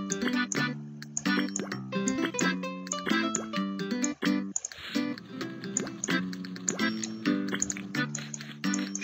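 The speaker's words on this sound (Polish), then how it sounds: "To woda wylatuje" Cartoon water-pouring and splashing effects from the cooking game Papa's Pastaria play under bright, busy game music, with plopping and liquid sounds mixed into the dense tune.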